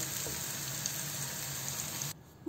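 Onions fry in a pan for chicken karahi, giving a steady moderate sizzle that cuts off abruptly near the end. Nobody talks.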